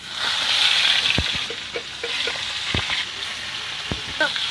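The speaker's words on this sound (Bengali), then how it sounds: "তো ট্যাংরা মাছগুলো আমরা ভেজে নেবো।" Steady hissing sizzle of tangra catfish frying in hot oil, with occasional sharp pops and clicks of a utensil stirring in the pan.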